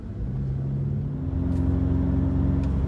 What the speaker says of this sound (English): The car actually sounds quite good, especially for a 4-cylinder turbocharged engine